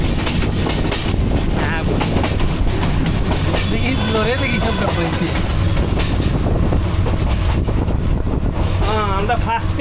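Rumble and rattle of a moving train inside a first-class compartment, crossing Sylhet city in Bangladesh, with steady rolling clatter and wind noise throughout while voices talk intermittently.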